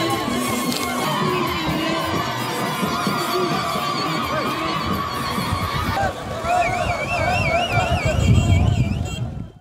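A large crowd cheers and shouts continuously during the Chadian president's visit to Goz Beida in Sila, with children's voices, ululation and warbling siren-like tones rising in the last few seconds.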